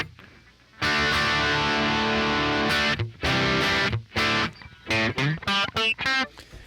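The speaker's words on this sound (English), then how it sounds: "if you turn the master up, it gets a little more distorted. Change my lead pickup." Heavily distorted electric guitar with humbucking pickups, on the lead pickup, plays a long sustained chord, then a series of choppy, punchy chord stabs, loud and close.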